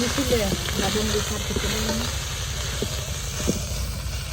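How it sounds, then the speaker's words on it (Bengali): Jute leaves hit a pan of frying onion and garlic with a loud, steady sizzle, and stirring clatters run through it. A faint voice briefly sounds early on. "এখানে পেঁয়াজ রসুন বাজাইছি আর এখানে পাট শাক দিয়ে দিচ্ছি"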